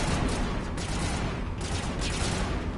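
Dense assault rifle fire in Mass Effect forms a continuous crackling barrage of rapid shots, loud and close, with no pauses.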